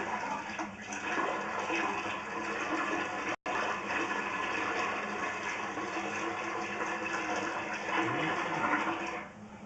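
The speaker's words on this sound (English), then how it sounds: "I'm about to pour it down the shower drain." A bucket of water is poured down a shower drain, making a steady, rushing gush and gurgle that runs for nearly ten seconds with a brief break, close and continuous, with no talking.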